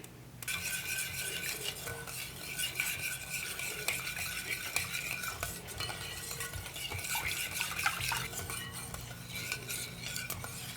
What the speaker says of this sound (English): I'm actually going to switch back to my whisk.